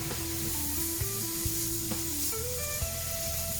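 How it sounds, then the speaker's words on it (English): Cubes of chicken sizzle and crackle steadily in a hot pan over high heat, a close, continuous frying hiss with a few soft clinks. "As you can hear it sizzling."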